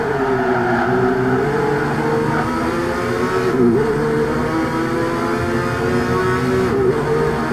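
GT300 race cars in a sim racing game at full throttle through fast corners, a loud continuous engine whine with slight pitch dips and surges over several seconds and no voices.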